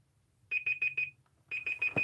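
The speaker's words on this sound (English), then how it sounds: "Timer's going off." Timer alarm beeping in two quick bursts of four sharp, high electronic tones each, close and clear with a short gap between the groups.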